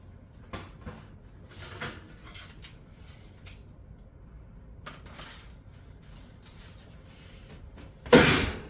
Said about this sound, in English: We're going to take these out of the oven.